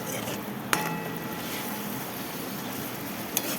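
Onion, garlic and tomato stirred in a pan, a soft steady sizzle under light scraping, with two sharp metallic clinks of the spoon against the pan, close up.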